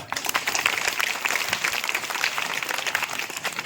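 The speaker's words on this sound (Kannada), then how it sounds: "ಚಪ್ಪಾಳೆ" A crowd at a stage show applauds, a steady wash of many hands clapping at moderate volume, lasting a few seconds.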